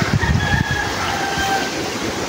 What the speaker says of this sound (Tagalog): Ang daming manok, oh.